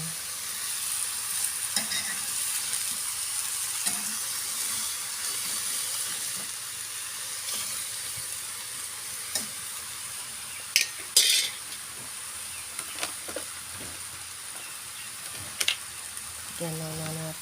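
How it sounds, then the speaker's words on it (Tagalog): Garlic frying in a pan keeps up a soft, steady sizzle while a utensil stirs it, adding sparse clinks and scrapes against the metal. "Haluin na natin yung konti para mag-mix ang bawang lang."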